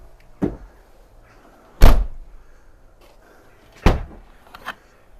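The rear door of a crash-damaged Fiat 500 Lounge being shut, a few solid thunks of varying weight with a quieter knock in between, close and with no talk.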